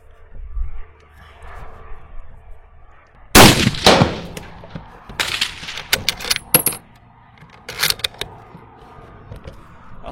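A Type 99 sniper rifle fires in a video game, with several sharp shots spaced a second or more apart and lighter clinks and rattles between them over a quiet, low background.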